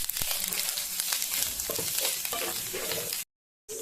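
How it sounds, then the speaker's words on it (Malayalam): Grated coconut fries with vegetables in a pan for Kerala-style koottucurry, giving a close sizzle broken by stirring scrapes and clatter, then a short silent gap before the sizzle returns. "ഇനി ഇതിലേക്ക് കുറച്ച് ചിരണ്ട തേങ്ങയും കൂടി ഇട്ട് കൊടുക്കുന്നുണ്ട്."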